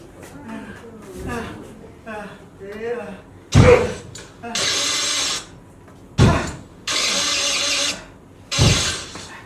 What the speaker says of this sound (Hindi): अरे नहीं होने वाले स्टार्ट, इंजन में जंग लग गया है।